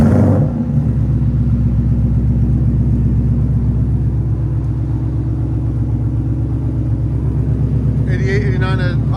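A 2021 Ford Mustang GT 5.0L V8 with long tube headers, a double H pipe and straight pipes starts up and settles into a loud, deep, lumpy idle close by, with a voice speaking briefly near the end.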